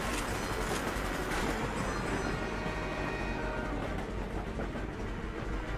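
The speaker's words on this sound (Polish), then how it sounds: "Tam jest pociąg." Train rumbling past in Call of Duty: Black Ops during the Vorkuta prison escape, a loud, steady roar of rolling wagons filling the whole stretch with faint rhythmic clatter and no talk.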